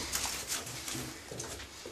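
Racing pigeons in a Polish loft, mostly blue birds, give soft, low repeated coos up close, over a quiet room hum.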